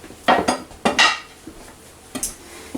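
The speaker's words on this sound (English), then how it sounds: "And we're going to give that a nice stir." A spoon scrapes and clinks around a pan while stirring a thick mole sauce, in a few separate bursts of metal contact with short pauses between them and no voices.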